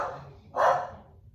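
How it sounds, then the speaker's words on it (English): A dog barks once indoors through a window at other dogs outside, a single short, fairly loud bark standing alone against a quiet room. "my dog is looking outside, looking at dogs outside, barking through the window"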